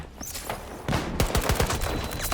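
Bursts of rapid automatic gunfire come from the video game Battlefield 2042, with dense overlapping shots that grow louder and punchier partway through and keep going to the end.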